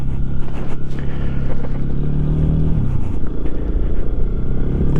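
A Lifan KPX 250 dual-sport motorcycle engine drones steadily and close, with one rising tone partway through as it pulls toward highway speed on a cold day.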